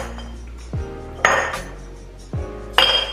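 Ice cubes drop into glass jars in a home kitchen while homemade margaritas are prepared, giving several distinct hard clinks and rattles at close range, with no one talking.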